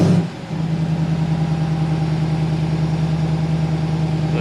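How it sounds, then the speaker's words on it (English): A 2021 Ram TRX pickup's engine starts and settles into a loud, steady idle, a deep continuous rumble heard up close from outside the truck with no talk. "You can turn on your vehicle remotely with the remote start by double tapping the 2."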